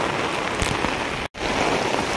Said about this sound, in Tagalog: Malakas na po masyado ang ulan.